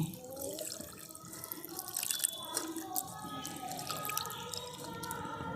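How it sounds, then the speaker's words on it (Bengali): Chhana being rinsed under cold water, a steady running tap splashing and dripping into a sink throughout, close and continuous. "আমি ভালো করে এই ঠান্ডা জল দিয়ে ভালো করে ধুয়ে নিচ্ছি"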